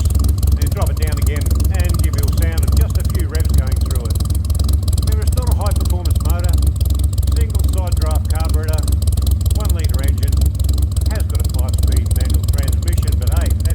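A 1960 Morris 1000 car engine idling steadily, a close, continuous low rumble with a broad hum running throughout, with people talking over it.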